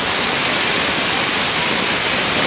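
Floodwater from a collapsed sewer rushes down a street in Ibagué, a loud, dense, unbroken roar of torrential water like a waterfall, continuous throughout.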